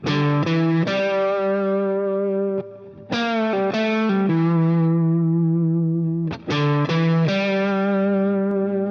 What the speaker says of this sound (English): Now, how does that sound on the guitar?